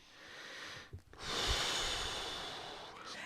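A person takes a slow, deep breath close to the microphone, with a long airy inhale, a brief pause and a drawn-out exhale, without any speech.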